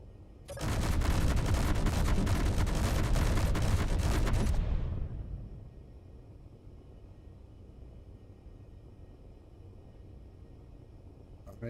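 Gatling turret in Space Engineers unleashes a loud, rapid, sustained burst of machine-gun fire lasting about four seconds, then cuts off into a low ambient hum.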